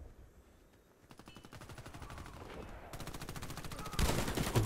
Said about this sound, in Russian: это наш снайпер стреляет